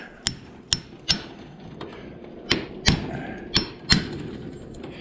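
A hammer strikes a cold chisel to break scrap copper loose: eight sharp metallic blows in two loose clusters, close and loud, with a little clatter between strikes.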